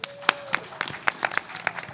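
Brief, scattered clapping from a small lecture audience, a handful of sharp claps spread over under two seconds, fairly close.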